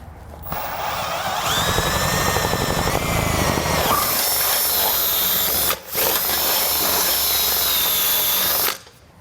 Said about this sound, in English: we're going to drill straight through the whole frame